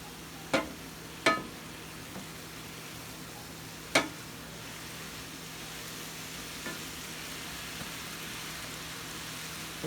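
Food browning in a pan for tacos, a steady even sizzle with a few sharp utensil taps early on, no voices.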